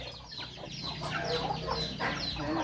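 Chickens clucking close by, a busy stream of overlapping short clucks and squawks at a steady moderate level, with no talking over them.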